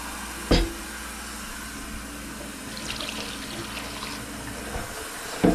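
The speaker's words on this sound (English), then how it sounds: "just get me some tap water." Tap water runs steadily from a kitchen faucet, a soft continuous hiss opened and shut by a pair of sharp clunks at the start and end.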